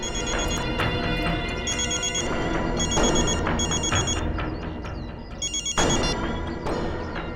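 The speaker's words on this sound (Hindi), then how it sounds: "इसी एरिया में कहीं पर फोन की घंटी सुनाई पड़ रही है।" A telephone rings close by in repeated electronic bursts of bright trilling tones, each lasting about a second, with short gaps between them and no talking.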